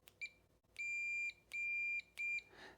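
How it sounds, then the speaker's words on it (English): Electronic beeps from a continuity tester: one short blip, then three sustained tones in a row, steady and clear, with no voices. "something called a continuity tester. And all that does is beep if there's a connection"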